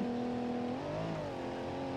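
Car engine in the BeamNG.drive driving game, a steady loud drone whose pitch climbs partway through as the engine revs, heard alone without talk.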